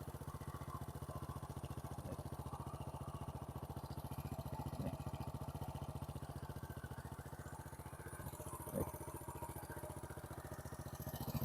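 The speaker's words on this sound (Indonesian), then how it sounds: "knalpotnya juga bunyinya sepertinya original ya. Bunyinya khas Honda Win." A 2001 Honda Win motorcycle with its original carburetor and exhaust idles at a low, even, continuous thump, steady throughout with no talk over it.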